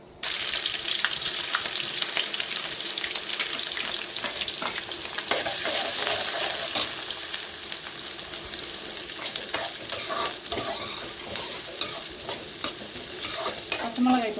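Onions fry in a pan for prawn thokku, giving a loud, dense, continuous sizzle with stirring scrapes close by. Nobody speaks.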